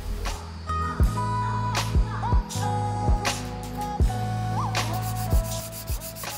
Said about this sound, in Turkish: ince zımpara ile macunun kusurlarını düzeltiyorum